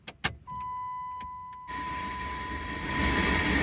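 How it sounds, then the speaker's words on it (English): An old car is switched on: a few sharp clicks and a steady electronic chime tone, then the engine catches and settles into a continuous, moderately loud running hum with no talking. "We're gonna first turn on the car."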